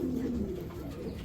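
Young racing pigeons from a breeder's loft, tossed race birds, coo softly up close in a low, throaty burst against a faint background murmur.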